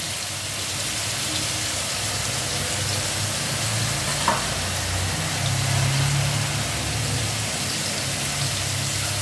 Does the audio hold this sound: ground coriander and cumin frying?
yes